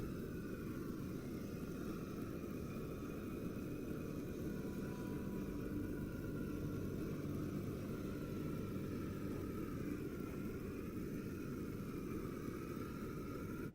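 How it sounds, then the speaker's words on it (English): A flamethrower in the video game Sandustry gives a continuous jet-engine-like roar, a deep, steady rumbling blast that holds at an even level for the whole stretch, with no voices over it. "The flamethrower sounds like a jet engine."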